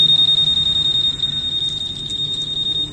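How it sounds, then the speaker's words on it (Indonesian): A Honda Vario 150 motorcycle alarm sounds a steady, piercing high-pitched electronic tone, continuous and loud throughout with a slight rapid pulsing. "Sekarang kita coba aktifkan alarm."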